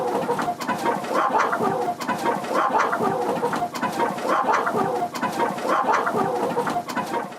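Kienyeji chickens on a farm cluck and coo steadily in a dense, continuous flock chorus, close and fairly loud throughout, with no talking.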